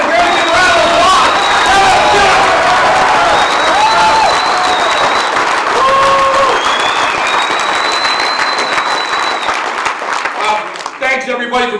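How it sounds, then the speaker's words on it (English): A crowd at a Teamsters Local 299 union gathering in southeastern Michigan claps loudly and steadily for about ten seconds, with a few whoops and chatter, before the applause fades out. "a very good round of applause"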